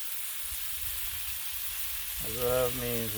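Fatty Jimmy Dean sausage sizzles steadily on a hot Blackstone griddle at a breakfast cookout, a close, even frying hiss that stays constant, joined near the end by a brief voiced sound over the sizzle.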